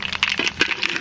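Whole mustard seeds and dry red chillies, with bay leaves, crackle and spit in hot oil as a tempering: a close, dense burst of sharp pops with no voices.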